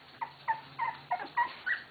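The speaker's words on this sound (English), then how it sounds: "Everybody's barking." Six short, high yips or whimpering barks from a small Shetland sheepdog come in quick, fairly even succession, close and clear, with no voices.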